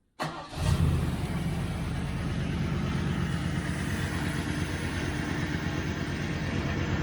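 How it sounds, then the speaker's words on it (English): A 1971 Triumph Stag V8 with Stromberg carburettors cranks briefly and fires, then settles into a steady, rumbling idle that runs on evenly, close and without voices. "And if I turn it off, I do nothing else other than turning it off, back on again"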